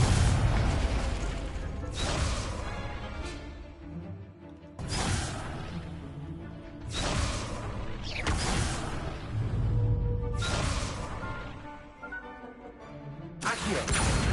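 Repeated explosive bursts from the Confringo spell in a Harry Potter video game, several loud booms roughly every few seconds over dense, continuous game noise.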